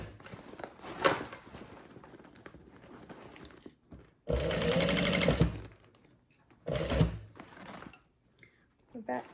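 A sewing machine stitches the front side of a thick Alaine handbag in close, bursty runs, with a long steady run in the middle and shorter ones after. Quiet handling sounds and soft background noise fill the gaps.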